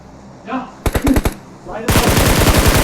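Gunfire rips through an online shooter match: a short burst of automatic rounds, a pause, then a longer, louder sustained burst, all close and sharp.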